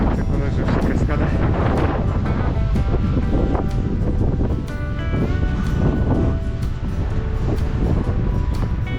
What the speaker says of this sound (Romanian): Hai mamă, ce bate vântul!